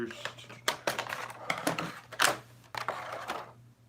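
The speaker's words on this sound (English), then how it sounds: "just cut this with scissors." Scissors snip through rubber bands wrapped around an action figure during an unboxing, giving a run of sharp, close clicks and cuts in an uneven rhythm, with a steady low hum beneath.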